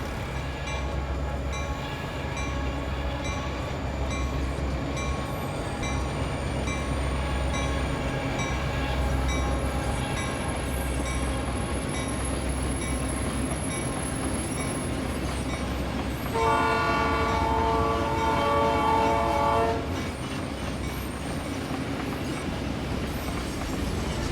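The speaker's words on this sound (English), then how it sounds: "Got a train coming through here." A train rolls past in American Truck Simulator, wheels clacking rhythmically over the rails for the whole stretch, then a loud horn blast sounds for several seconds near the end; nobody talks.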